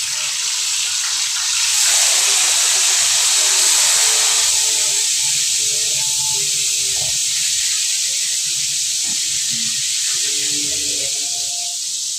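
Steady, loud sizzling of seasoned fish frying in hot oil, a continuous bright hiss with faint clinks and background sounds underneath.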